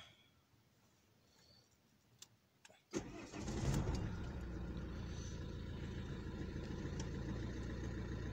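An Alfa Romeo 2.0 JTDM diesel engine is quiet at first, then cranks and fires about three seconds in, settling into a steady, loud idle close by.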